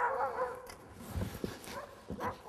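Excited sled dogs barking and yipping in an outdoor team setup, several short sharp barks at moderate distance over a noisy background.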